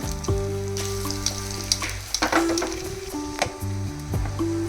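Crushed garlic, urad dal, mustard seeds and cumin sizzle steadily in hot oil, a close, continuous frying crackle with occasional stirring clinks and scrapes, no voices.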